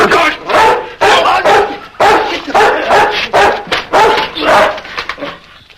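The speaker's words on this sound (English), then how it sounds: "That's a good dog." A dog barks in a quick series of loud, close yaps and excited whimpers, evenly spaced bursts filling the whole stretch with only brief pauses between them.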